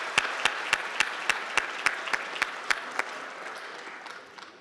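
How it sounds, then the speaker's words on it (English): Applause from the audience at a teachers' annual awards dinner, with sharp, evenly spaced claps standing out over a softer wash of crowd clapping that gradually fades away. "Let's give him another round of applause."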